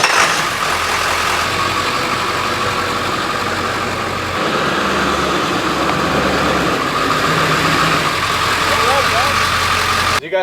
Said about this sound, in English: You guys can hear there's no rub anymore on the truck.